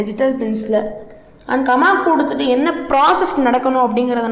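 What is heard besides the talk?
No distinct noise like a dog, phone or traffic.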